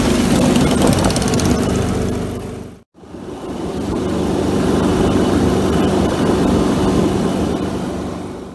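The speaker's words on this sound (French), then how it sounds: "Et là, c'est reparti avec un bruit d'enfer du moteur." Loud, steady engine drone from a vehicle driving a rough track in Cambodia, running continuously with a brief cutout partway through before the roar resumes at full strength.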